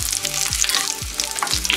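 Garlic and curry leaves crackle in hot oil for a tempering, a dense loud sizzle broken by a rhythmic utensil scrape about twice a second.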